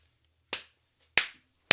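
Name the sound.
clap imitating Todo's boogie woogie technique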